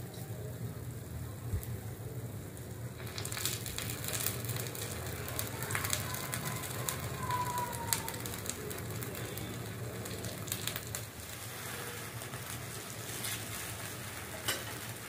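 Karupatti paniyaram, made from five kinds of rice, sizzle and fry steadily in a pan while they are turned one after another. Scraping and clicking sounds rise over the constant low frying hiss.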